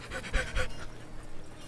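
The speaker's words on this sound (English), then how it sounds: "Heavy breathing." Heavy rhythmic panting, a few quick breathy gasps up close that fade into softer breathing, with no words spoken.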